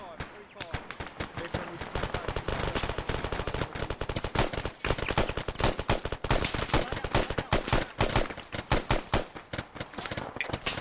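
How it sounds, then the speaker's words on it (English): Rapid gunfire from the ARMA 3 video game fills the clip: dense automatic bursts and single shots, near and loud, keeping up an almost continuous rattle throughout. "That shot coming from 3-5."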